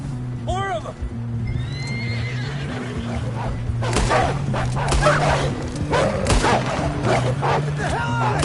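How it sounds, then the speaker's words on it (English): Wolves snarl and yelp during an attack in Red Dead Redemption 2, with horses whinnying in alarm, a steady low hum underneath and louder scuffling bursts in the second half. "We got more wolves on the left!"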